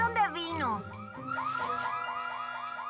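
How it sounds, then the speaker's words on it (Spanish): A cartoon alarm blares with rising and falling warbling tones, loud and repeating fast, with a voice shouting over the first part. "¡Alarma de platillo!"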